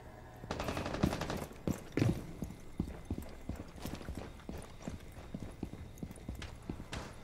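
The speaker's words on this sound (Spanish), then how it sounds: "acabo de escuchar a un carnal que vino corriendo por aquí" Quick, sharp footfalls of a player running in the Rainbow Six video game, a steady rhythm of close taps with a few heavier thuds near the start.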